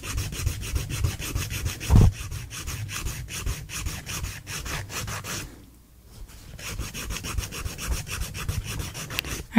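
A gel nail extension is filed down with an emery board, giving a steady scratchy rasping that repeats in quick strokes. A short pause comes partway through before the filing resumes, close-up and alone with no voices.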